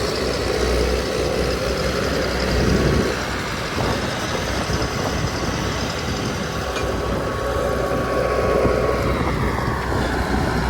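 A tractor engine runs steadily in a farm field in Tsnori, Georgia, a continuous near drone with low rumble, no one speaking.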